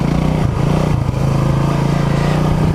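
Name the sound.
Honda CB250RS motorcycle riding off-road on leaves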